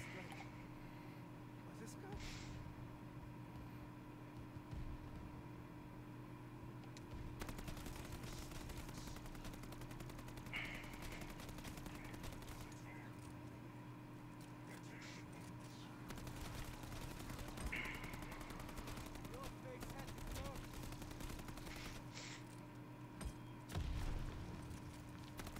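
Rapid gunfire and explosions from shooting zombies in Call of Duty Vanguard Zombies, faint repeated shots and bursts under a steady hum, with someone talking over much of the action.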